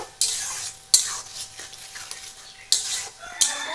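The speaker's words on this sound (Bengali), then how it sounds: "এখন আমি আনারসটাকে ভালো করে সেদ্ধ করে নেব আর একটু ভেজে নেব" Pineapple with turmeric fries in a pan while being stirred, four sharp spatula scrapes punctuating a faint, low sizzle.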